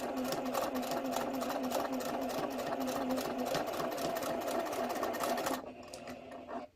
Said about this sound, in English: I'm going to sew and just ride the red.